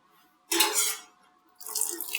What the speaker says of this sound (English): take your knife, get a nice soapy rag, and just clean your knife separately